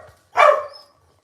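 A puppy gives a single sharp, close bark that fades quickly into a quiet room.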